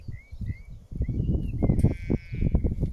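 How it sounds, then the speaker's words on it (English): Sheep and lambs in a rotational grazing paddock, bleating in a loose chorus of overlapping calls with one higher voice, near and fairly loud over field noise. "Sheep and lambs in front."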